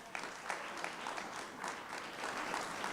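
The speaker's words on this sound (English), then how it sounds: "Come on, let's give a round of applause." Applause at a tech conference's tenth-anniversary gathering, a faint but sustained patter of many hands clapping at a distance, with no talk over it.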